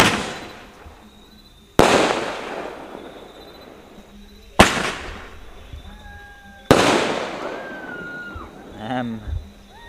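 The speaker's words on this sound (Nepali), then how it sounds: "अब चाहिँ पटेका पड्काउने पालो" Firecrackers set off during the Tihar festival in Nepal, four sharp loud bangs spaced a couple of seconds apart, each trailing off in a hissing decay, with brief whistling sounds and voices near the end.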